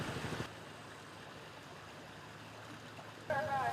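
Water flowing in the 100-kilometre Chitti Bai rivulet, now heavily polluted: a steady, soft broadband rush, with louder bursts at the start and end.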